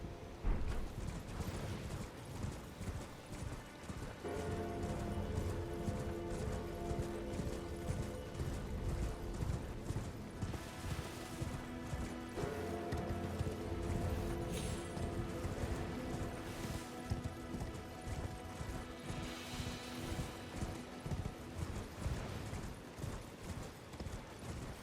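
Hooves of an enemy rider's horse in Elden Ring clop in a steady rhythm beneath game ambience and clanking mechanisms, fairly quiet and continuous across the stretch.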